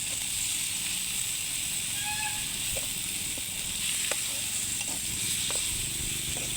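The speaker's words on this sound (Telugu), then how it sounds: "టమాటాలు ఎర్రగడ్డలు బాగా మగ్గాయి దీంట్లోకి రొయ్యలు వేసుకున్నాం పచ్చి రొయ్యలు" Raw prawns sizzle in a pan with softened tomatoes and onions, a steady broadband frying hiss running throughout with a few faint clicks of stirring.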